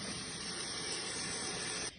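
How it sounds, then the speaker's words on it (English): Cold tap water gushes in a steady spray over drained spaghetti in a colander, close and continuous before cutting off abruptly. "run cold water over it to stop the cooking process"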